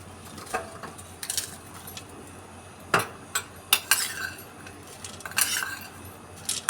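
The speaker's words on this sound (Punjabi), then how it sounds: "ਇਹ ਵਾਲੀ ਪਾਪੜੀ ਮੱਠੀਆਂ ਨੂੰ ਇਸ ਤਰ੍ਹਾਂ ਤੋੜ ਕੇ ਪਾ ਦਾਂਗੇ" Papdi mathri crackers are broken into a bhelpuri mix in scattered crisp snaps and clinks of utensils against a bowl, close up with no talking.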